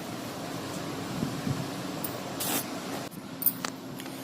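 Onions and garlic frying in oil in a pan for egg curry. The pan gives a steady, hissing sizzle with a few brief, louder spitting bursts, heard up close and with no talking.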